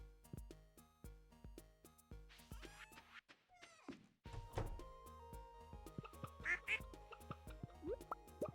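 Cartoonish duck quacks from a community center video game ring out over bouncy game music with plucked notes, first as quick repeated blips and then as bright overlapping quacks near the end.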